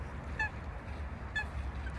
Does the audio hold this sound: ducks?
yes